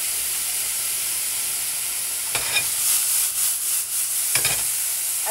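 Minced garlic sizzling in a pan over low heat with mushroom stems: a steady close hiss of frying, broken by a few scraping stirs, no voices.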